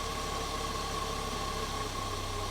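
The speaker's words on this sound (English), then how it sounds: "I'm going to lower pressure and listen to the engine." An engine fitted with early Bosch CIS fuel injection runs with its fuel pressure lowered, giving a steady, even idle hum with a constant tone and no voices over it.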